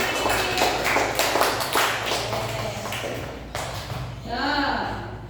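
Students in a primary science class clap for a classmate, a busy stretch of quick, overlapping hand claps at close range, with a voice breaking in near the end.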